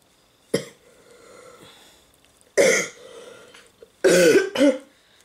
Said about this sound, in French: On tousse, on a un rhume.